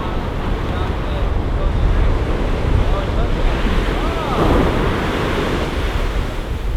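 Heavy shorebreak pounds the sand at the Wedge, a loud, continuous roar of surf and wind-buffeted rumble with no clear gaps between waves.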